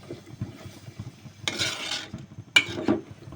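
Food being mixed in a cooking pot, two short bursts of scraping and stirring against quieter low background clatter.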